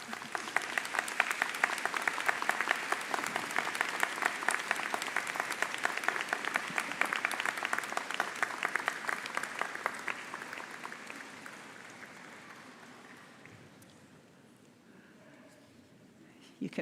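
Graduates and audience at a university convocation applaud in a long, dense wave of clapping that fills the hall, then thins and fades toward the end, with a few scattered claps remaining.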